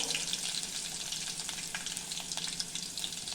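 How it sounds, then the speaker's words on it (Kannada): Garlic frying in a pan for a potato dish: a steady, soft, close sizzle and crackle with faint stirring, no voices. "ಹೀಗೆ ಬೆಳ್ಳುಳ್ಳಿ ಹಾಕ್ತೇನೆ ಇದಿಷ್ಟು ಹುರಿದ್ರೆ ಸಾಕು"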